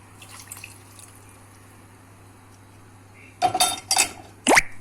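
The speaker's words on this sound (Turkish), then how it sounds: "Şöyle tavama biraz su ekleyip karıştırayım." Water goes into a pan of yogurt tarhana soup and gets stirred, a faint simmering background giving way to a few loud, close scrapes and clinks of a spoon against the metal pan near the end.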